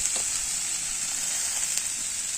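Chili paste and grated onion frying in oil in a pan, a steady bright sizzle and hiss throughout with faint crackles, close and uninterrupted, no talk.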